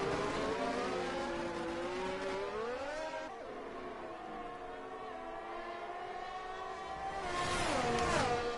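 Several F1 race cars in a racing video game run in a slow pack behind an Aston Martin safety car at the Austrian GP, their engines droning and shifting pitch steadily with no talk.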